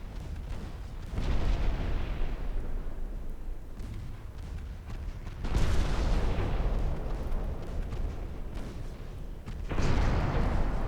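Heavy naval guns firing from a Viking-class destroyer in a 1955 Norwegian campaign naval video game: deep booming blasts in three sustained bursts, loud and rumbling, with no talk.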